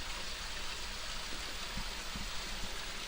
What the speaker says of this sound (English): Got a waterfall coming down through here.